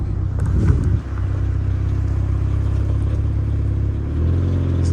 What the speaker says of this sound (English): I don't know if you heard it with the wind noise